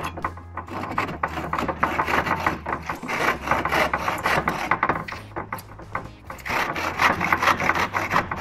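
Wood being cut by hand with a saw for shelves, close and fairly loud, with a steady rhythm of rasping back-and-forth strokes that pauses briefly around the three- and six-second marks before resuming.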